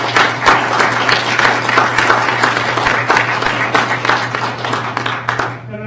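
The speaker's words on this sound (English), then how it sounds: "Applause, please." Loud, close applause from the audience at a public board meeting, many hands clapping in a dense burst that thins into scattered claps before stopping, over a steady low electrical hum.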